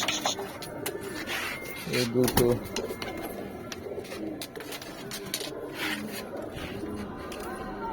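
Pigeons, including female birds being shooed from a loft, coo in soft repeated bursts near the start and middle while someone talks over them.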